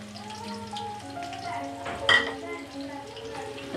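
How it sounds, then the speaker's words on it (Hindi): Chopped onions fry in hot oil for a chicken pulao, a continuous close crackle and hiss with one sharp clink of a utensil against the pot partway through, over a faint background hum. "तो जी ये ऑयल गर्म हो चुका है, इसमें हम डालेंगे प्याज।"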